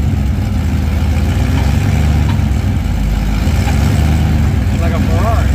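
Blown Chevy 383 small-block V8 idling in a third-generation Camaro IROC-Z28, a steady loud low rumble that runs without a break under people talking close by.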